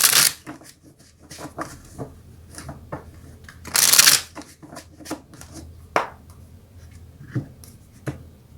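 Tarot cards are shuffled by hand close up, with quick riffling bursts and flicks, one long papery flurry midway, then scattered taps and slides, with no talking.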